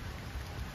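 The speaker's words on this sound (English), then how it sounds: "it's starting to rain" Rain beginning to fall on the Hampton University campus makes a steady, even hiss of drops on surfaces, fairly faint and continuous throughout the brief moment, with no voices.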